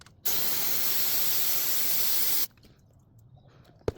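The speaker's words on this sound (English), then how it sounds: "we're going to get some brake clean and spray around the filler bolt" A loud, continuous aerosol brake cleaner spray hisses for about two seconds around a transmission filler bolt on a 2017 Acura MDX, then cuts off, leaving quiet shop noise and a single sharp knock.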